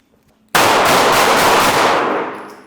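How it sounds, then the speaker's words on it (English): Handguns fired in a defensive shooting drill against carjacking, a sudden dense volley of overlapping sharp cracks that starts abruptly, rattles for over a second and fades. "much better shooting on this next volley"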